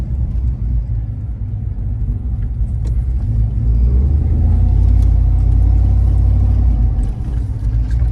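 The ZL1500 car with a 10-speed gearbox drives on the road, a deep engine rumble heard from inside that swells as it accelerates and then eases off, continuous and close with no talk.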